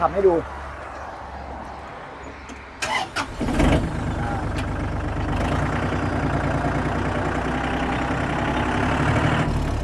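A used Iseki NT542 42 hp tractor drives along with its engine running, producing a steady, fairly loud mechanical drone that builds after a couple of seconds of quieter sound. Someone talks over it.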